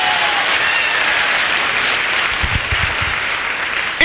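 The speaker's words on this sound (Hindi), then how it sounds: "इस बिजनेस के लिए जोरदार ताली बजवाना चाहता हूं।" Loud, sustained applause from an audience at a business celebration event in a hall, steady clapping filling the whole stretch with a few low thumps near the end.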